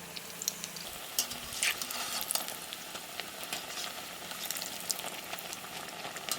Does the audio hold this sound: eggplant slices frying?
yes